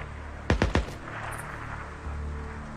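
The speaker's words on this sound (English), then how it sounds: "And then I'm getting sniped over here." Three sharp sniper rifle shots crack in quick succession in the open-world game Days Gone, close and punchy against quiet ambient background, followed by a low rumble.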